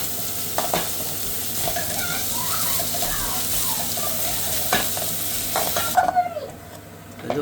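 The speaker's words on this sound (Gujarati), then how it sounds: "તો હવે એમાં ડુંગળી નાખી દઈએ" Five or six onions fry in oil with ginger-garlic paste for kobi no sambharo in a home kitchen, a loud close sizzle with stirring scrapes and clatter that quiets near the end.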